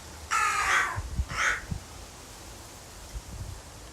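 Crows caw outdoors: a long harsh call followed by a shorter second caw, moderately close, then quiet rustling and faint background noise.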